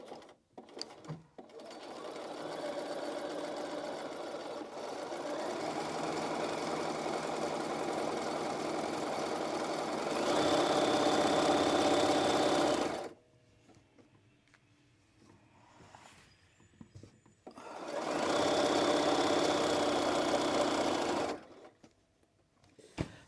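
A sewing machine stitches the side seams of a dress in long steady runs, a loud continuous whirring hum that stops, falls to quiet handling noise, then starts up again near the end.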